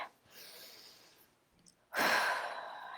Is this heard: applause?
no